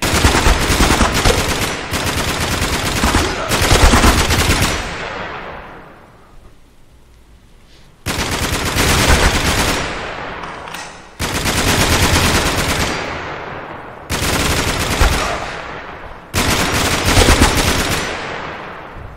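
Loud, close bursts of gunfire from the shotgun in Last Sniper VR, a VR cover shooter, come in several dense volleys separated by short gaps, one longer pause letting the blasts decay before firing resumes.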